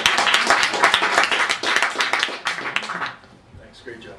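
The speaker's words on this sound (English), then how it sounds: "let's give a warm round of Bar Camp applause to Pierre Francois" Audience applause at a Bar Camp tech talk welcoming the next speaker: dense, steady clapping from a crowd for about three seconds, then dying away into quieter room sound.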